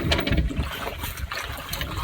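A small boat moving on water, with steady sloshing and lapping against the hull and a light breeze in the background.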